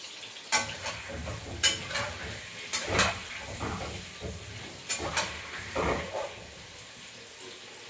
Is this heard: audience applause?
no